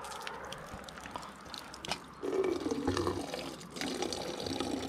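Spring water near Toplita trickles and splashes from a mountain source, a close, bubbling flow that grows fuller partway through, with small drips and knocks over it.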